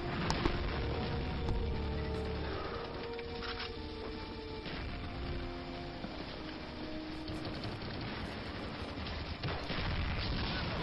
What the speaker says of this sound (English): Throwing a grenade, not a very good toss, but it may do the job.